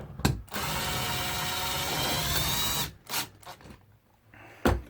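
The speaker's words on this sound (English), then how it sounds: "And we'll unscrew the tilting mechanism." A power drill whirs steadily for about three seconds, close and fairly loud, while it unscrews the tilting mechanism of a TV mounting bracket, followed by a few short ratcheting bursts and clicks.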